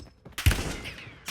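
Gunfire in the battle royale video game Warzone, one loud burst of shots up close followed by a rattling tail, then another short burst at the very end.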